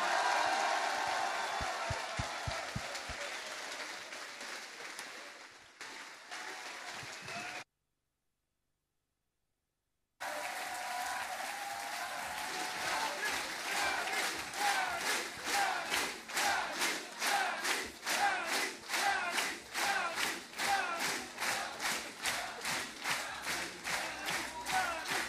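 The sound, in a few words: audience applauding and cheering for Yanis Varoufakis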